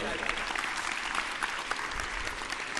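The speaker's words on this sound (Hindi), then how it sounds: "उसके लिए विशेष ताली बजावा।" Audience applause at a yoga event with Swami Ramdev, a steady, moderately loud wash of clapping from many hands that holds evenly throughout with no gaps.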